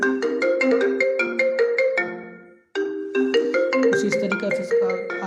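A song plays loud and close through a homemade Bluetooth speaker, a bright, busy plucked melody with a steady rhythm that briefly fades out and then starts again.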